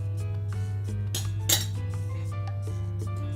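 Baji batter with garlic and coriander being mixed in a bowl, with quick clinking and tapping of a utensil against the dish, plus a couple of louder scraping knocks over a low background hum.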